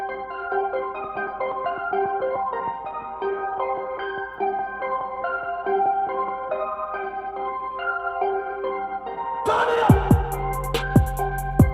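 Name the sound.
hip-hop beat with sample slowed to half tempo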